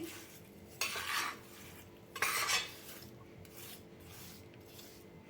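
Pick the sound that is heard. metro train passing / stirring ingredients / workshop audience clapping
stirring ingredients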